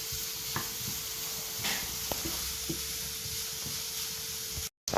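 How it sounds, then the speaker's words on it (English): Chopped carrot and green beans sizzling steadily in a hot pan, a continuous soft frying hiss with occasional light taps and stirring clicks, close and even throughout. "I let the carrot and the green beans cook like for 5 minutes"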